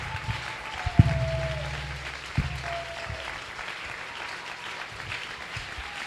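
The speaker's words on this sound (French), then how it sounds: "Tumupikie tena Mungu makofi." A church congregation claps steadily throughout, a dense and lively applause with a few sharper accents and a faint sustained tone underneath.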